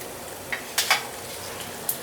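Coriander and curry leaves fry in a pan for garlic dal chutney, giving a low steady sizzle broken by a few sharp clinks of a spoon against the pan, close and moderately loud, with no talking.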